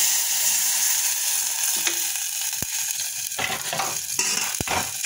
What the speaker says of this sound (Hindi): सरसों पक गई है, मैं इसे पानी डाल दूँगी।